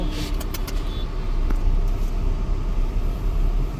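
Steady road traffic on a highway on the Mumbai to Konkan route near an accident scene with trucks; cars pass close by in a continuous, loud rumble and hiss with no clear gaps.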